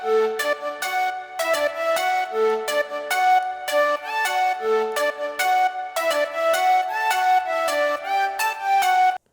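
Three layered synth sounds in a tropical house style, a bright pluck playing a melodic lead with a breathy flute-like tone on top, rhythmic repeating notes, clean and loud with no voices.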